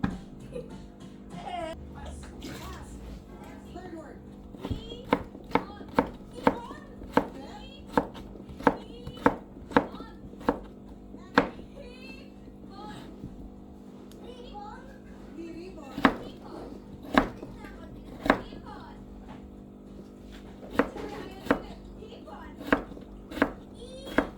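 Two potatoes being chopped on a cutting board for empanada filling: a steady series of sharp, close knife knocks, some spaced and some in quick runs, over a low kitchen hum with faint voices around.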